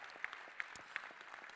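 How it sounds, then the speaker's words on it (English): Faint audience applause at an awards ceremony, a steady patter of clapping heard from a distance for a brief moment. "Round of applause, well deserved."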